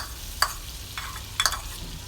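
Garlic fries in melting butter in a pan, a soft steady sizzle close by with a few sharp stirring clinks of a utensil against the pan.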